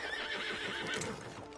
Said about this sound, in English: Get on the horse there.